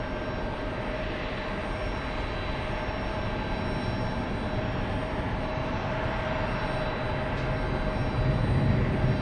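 A JetBlue Boeing 787 jet airliner takes off from runway 22 right, a steady, loud broadband engine roar holding throughout and swelling slightly near the end.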